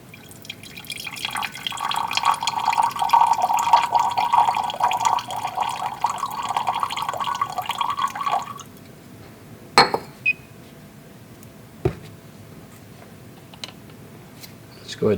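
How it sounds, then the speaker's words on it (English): Water poured from a container into a glass flask or cylinder of solution in a chemistry lab, filling toward the 100 mark; a steady trickling pour lasts about seven seconds, followed by a few sharp glass clinks and taps. "Now let's go ahead and add enough water to get to 100."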